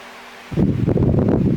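After a near-silent start, a steady whooshing rush of air kicks in as an electric fan switches on close by and keeps blowing strongly.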